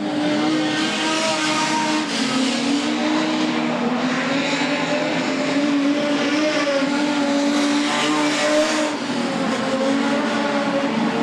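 Production sedan race cars, including a Sigma, roar around a dry track at Collie, engines droning steadily at high revs with shifting pitch as they pass, loud and continuous without talk.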